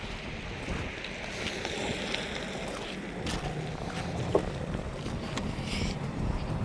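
Strong, cold desert wind rushes across a rocky valley at Wadi Al Disah, a steady broadband buffeting roar with soft gusts and a few faint knocks, no voices heard.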